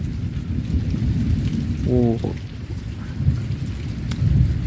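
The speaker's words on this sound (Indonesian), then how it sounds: "So dalam keadaan hujan, ya, hujan." Rain at night with thunder, a steady wash of rainfall and low rumbling throughout, with a short voice exclaiming briefly in the middle.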